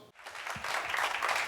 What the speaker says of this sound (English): So a round of applause for Devansh.